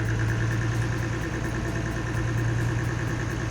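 Engine idling steadily after the ignition is turned on during a repair, a continuous low rumbling drone with even vibration, close and fairly loud throughout, with no talking over it.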